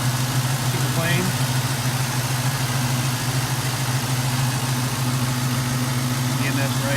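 A 1969 Camaro restomod's LS1 V8 idles steadily, a deep, even low rumble with a constant hum that holds through the whole stretch.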